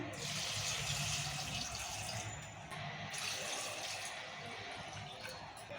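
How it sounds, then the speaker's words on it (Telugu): Water pours steadily into a cooking pot for boiling pasta, a continuous close splashing hiss that runs unbroken for about six seconds with no talk. "మళ్ళీ నీళ్ళు పోసుకుందాము"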